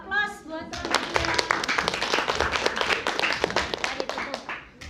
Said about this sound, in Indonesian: aplaus buat kelompoknya